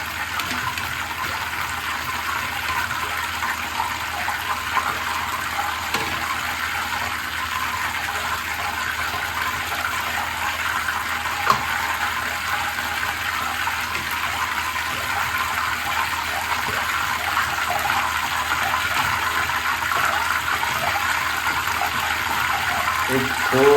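Raw banana slices fry in oil over a medium flame for vrat-style chips, with a little water added to the pan. A steady, loud, broad sizzling hiss runs unbroken from start to end.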